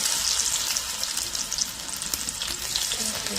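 Bora fritters made from begun flowers frying in hot oil, a steady close crackling sizzle with dense bubbling throughout and no voices.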